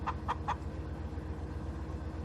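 Chickens in Farming Simulator 19 give three quick clucks near the start, then fall quiet over a steady low background hum.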